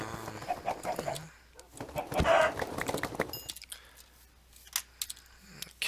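Chickens cluck in a Minecraft game world, a scatter of short clucks and game sounds over several seconds, with a brief louder burst near the middle.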